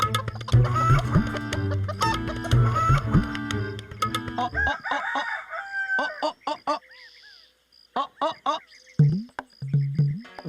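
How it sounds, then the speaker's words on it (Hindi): A red rooster clucks in a series of sharp, near calls with brief pauses, loud against a quiet background, with some voices alongside. "अरे भाई साहब, इधर एक मुर्गा भाग आया है मेरा"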